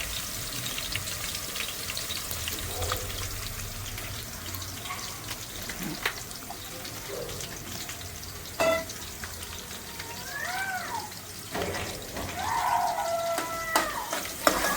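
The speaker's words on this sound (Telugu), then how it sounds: "బాగా ఫ్రై చేసుకోవాలండి ఆనియన్స్" Onions frying in a pan for a green pulao, a continuous soft sizzle with occasional clinks and brief tonal squeaks from nearby activity, moderately close and without speech.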